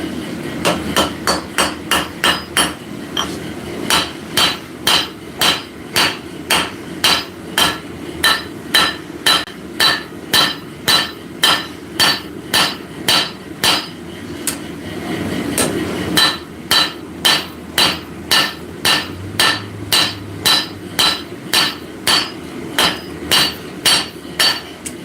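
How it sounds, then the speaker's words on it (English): Hot metal is flattened with a straight peen forging hammer in a workshop, in a long run of sharp, evenly spaced ringing blows with a short pause partway before the steady strikes resume. "I'm going to switch to the straight peen and flat"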